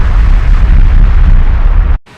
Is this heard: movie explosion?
yes